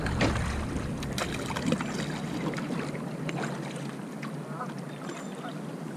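Paddling a Hobie Lynx kayak on open water, steady splashing and dipping of the paddle with wind noise outdoors, close and continuous without talk.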